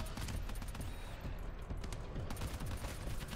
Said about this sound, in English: Time for some accurate pistol shots